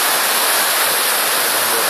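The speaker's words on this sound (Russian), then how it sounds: "Волны, океан." Pacific Ocean waves breaking at a San Diego beach, a steady loud wash of surf and hissing foam with no pauses or voices.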